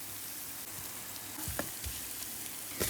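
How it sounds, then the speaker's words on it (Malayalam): Crushed ginger and garlic sautéing with onions in a pan for a pepper chicken fry, a soft steady sizzle with a couple of stirring knocks, quiet and close with no talking. "ഇനി എല്ലാം കൂടെ ഒന്നും കൂടെ നമുക്കൊന്ന് വഴറ്റാം"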